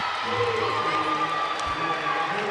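Volleyball fans in a tournament gym clap and cheer, a broad steady crowd wash with scattered claps and shouts, moderately distant, running under a commentator's voice throughout.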